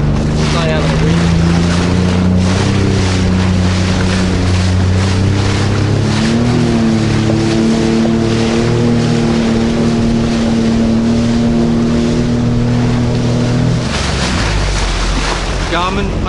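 A 2020 Sea-Doo Fish Pro 170 jetski runs on the ocean with a loud, steady engine drone. Wind buffets the microphone and water rushes past, and the engine pitch shifts as it goes, easing off near the end.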